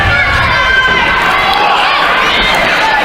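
A wrestling crowd at a Winter Freeze 16 match roars and cheers in a dense, continuous wall of voices, loud and close, with shouts rising out of the din.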